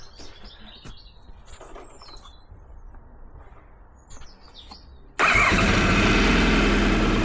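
A Honda VFR400 NC30 motorcycle engine with choke applied cranks and suddenly fires into a loud, steady idle close by, preceded by several seconds of quiet outdoor background with birds chirping.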